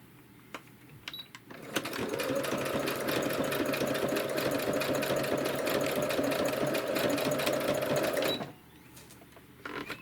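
A sewing machine stitches a beginner washcloth soap saver pocket in one steady, close run of about six seconds, with fabric-handling clicks before and after and no talk.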